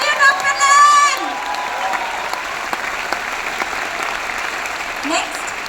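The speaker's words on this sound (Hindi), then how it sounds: "हाथ उठा के ताली मारिए" An audience at a health talk breaks into sustained applause, a steady wash of clapping that carries on for several seconds, with a voice and a brief tone at the start.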